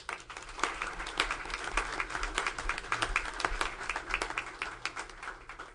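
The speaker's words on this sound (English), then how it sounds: "So just another applause for Nancy." Applause from an audience at a school board study session, honoring a teacher who runs a speech and debate program. A steady patter of many hands clapping for several seconds at moderate loudness, with no talking.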